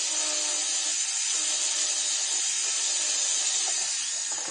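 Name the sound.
rotary bur on a tool, making beads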